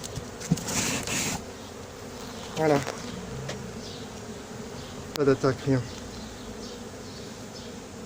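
Honey bees from a swarm behind a window shutter buzz steadily in the background while a person speaks briefly in a low voice.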